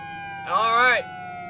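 A short fire truck siren burst whoops up and down briefly over a steady background Q siren tone, close and loud for about half a second.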